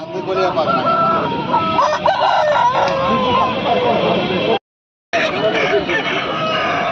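An Aseel rooster crows repeatedly at a bustling poultry market in Kundarapalli, Krishnagiri District. Other fowl call and people talk nearby, and the sound cuts out for a moment before resuming.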